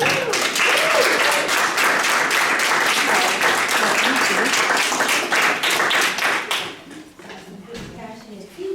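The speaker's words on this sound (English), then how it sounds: "Give yourselves a round of applause" Audience at a speech competition breaking into sustained applause, dense clapping close and loud for several seconds before tapering off into scattered claps and murmuring voices.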